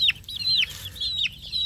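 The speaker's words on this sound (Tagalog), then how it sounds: "So, eto na mga sisiw." Young chicks undergoing coccidiosis treatment peep in quick, high, downward-sliding chirps, several close together and fairly soft, with no talking.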